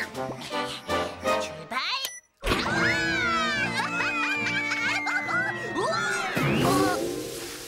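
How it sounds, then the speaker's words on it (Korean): Cartoon toy airplane from Pororo falls and crashes, heard as a busy run of whistling, swooping and tinkling effects over music after a brief silent gap, ending in a clattering tumble. "저런, 뽀로로의 비행기가 떨어졌어요."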